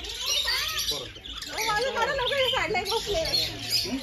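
Lively chirping and squawking from several small birds eating from people's hands, close by and busy, with a faint voice in the background.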